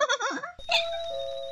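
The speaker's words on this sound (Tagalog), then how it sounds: "May nagapang doorbell sa gate?" A two-tone doorbell chimes once at a gate late at night, the bright ding-dong ringing out briefly and fading with a sustained tone after a short stretch of quiet voices.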